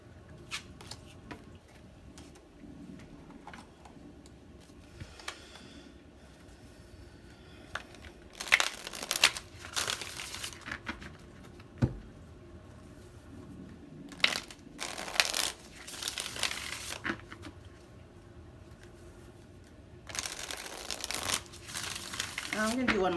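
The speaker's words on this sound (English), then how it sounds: "I'm going to do one more shuffle" Several bursts of tarot-style reading cards being shuffled and riffled, scattered across the stretch, with quiet background noise between them.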